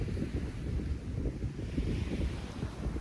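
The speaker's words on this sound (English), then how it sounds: "Hearing the sound of the wind and the flow of the waves." Wind and ocean waves wash steadily over a beach, a continuous low roar of surf and gusting air with no voices over it.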